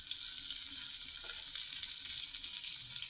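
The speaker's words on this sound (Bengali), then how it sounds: "রুই মাছ ভাজছি," Pieces of rohu fish fry in hot oil with a steady, hissing sizzle that stays even and close throughout, with no voices.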